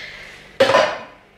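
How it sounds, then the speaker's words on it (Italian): A metal cooking pot for pasta water is pulled out with one sharp clank against other cookware, ringing briefly over a quiet kitchen background. "La pentola per mettere l'acqua perché faccio la pasta al pesto."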